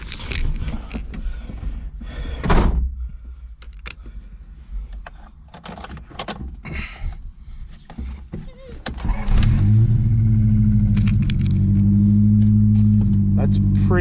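An old 1986 Honda Civic engine, after sitting overnight, cranks, catches and settles into a loud, steady idle after earlier clicks and mechanical clatter.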